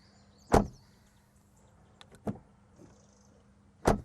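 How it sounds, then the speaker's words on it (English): Audi A3 Sportback car doors shut firmly in a build quality check, three separate solid thuds spaced a second or more apart, close by, with faint birdsong outdoors in the background. "what I think we'll do is a build quality door ASMR test"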